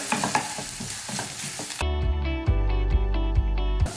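Sliced onion and curry leaves fry in oil in a pan for chena mezhukkupuratti, giving a steady close sizzle with repeated loud scrapes and stirring knocks; the frying grows fuller about halfway through.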